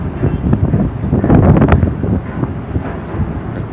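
Blustery, cold wind buffets the microphone atop Seattle's Space Needle, a steady low roar with gusts swelling near the middle and easing toward the end.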